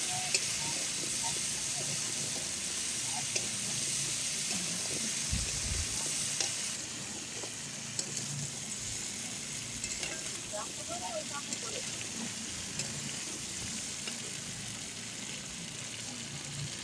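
A soybean and pumpkin curry with chilli and cumin fries in a pan, giving a continuous dense sizzle and hiss that holds steady throughout, with faint scattered clicks of stirring.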